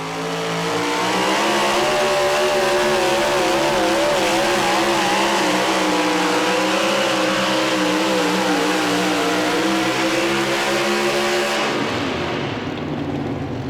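Randy Nelson's Pro Mod 4wd pulling truck, Family Affair, roars at full throttle during a truck pull, a loud, sustained engine howl with wavering pitch that cuts off abruptly near the end.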